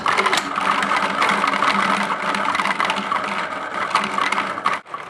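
A toy producing a roller coaster running sound effect, a loud, steady rattling mechanical whir that holds for about five seconds before a brief dip near the end.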